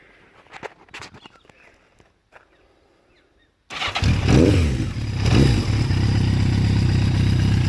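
A 1981 Yamaha XJ750 motorcycle engine cold-starts after a few quiet clicks and clatters, catching abruptly and settling into a loud, steady idle that runs to the end.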